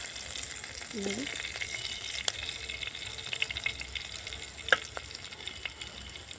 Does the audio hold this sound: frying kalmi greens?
yes